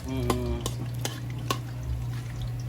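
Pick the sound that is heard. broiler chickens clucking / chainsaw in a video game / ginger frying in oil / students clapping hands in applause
ginger frying in oil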